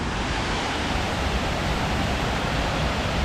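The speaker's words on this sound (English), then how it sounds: "I'm currently in front of the Georgiaville Pond waterfall." Water pours over the 1850s Georgiaville Pond dam, a steady, loud, close roar of falling water with no variation and no one speaking.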